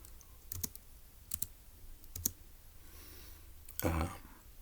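A computer keyboard gets typed on in short bursts, paired clicks recurring roughly every second, moderately close, then a louder clustered clatter near the end over a low steady background hum.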